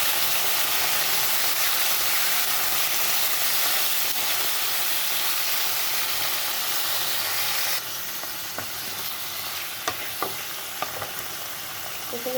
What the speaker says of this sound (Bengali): তো এখানে দিয়ে দিচ্ছি মূলোটা।